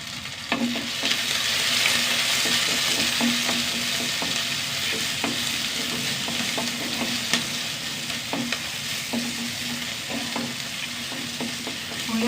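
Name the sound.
small onions and garlic sautéing in a pan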